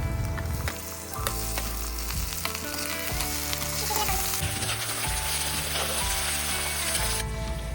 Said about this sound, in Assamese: এয়া মই পিঁয়াজখিনি ভাজি লৈছোঁ, তাতে অলপ নহৰু আদা পেষ্টটো দি দিছোঁ